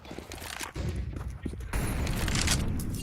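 Gunshots in a competitive esports match, a rapid burst of gunfire with thumping blasts that grows into sustained loud firing, with a caster talking over it.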